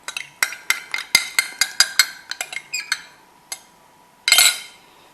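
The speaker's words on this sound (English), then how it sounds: "And then give it a mix." A utensil clinks rhythmically against a bowl while wet cracker ingredients are stirred, a string of sharp, close taps ending with a louder scrape.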